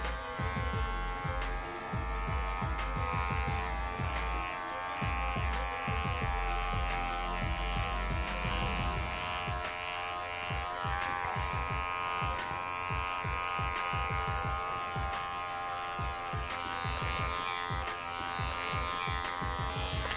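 Electric hair clipper cutting a woman's hair in downward strokes with the grain, a steady buzzing motor with rapid clicking snips, close and continuous throughout.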